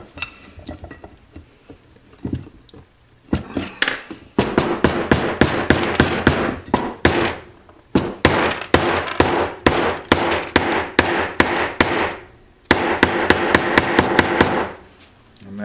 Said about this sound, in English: Take a dead blow hammer and tap that in the rest of the way